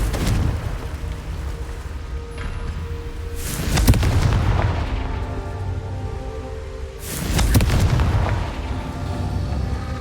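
Confringo blasting curse from the Hogwarts Legacy video game, two loud booming explosions about three seconds apart, each with a rumbling crackling tail over a steady background of game ambience.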